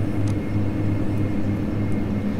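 A Majestic Dash 8 turboprop climbing out after takeoff in FSX gives a loud, steady engine drone with constant low tones and a few faint clicks above it.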